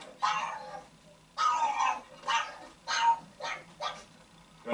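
A puppy whimpers in about six separate short, high, whiny bursts with quiet gaps between them, close and fairly clear.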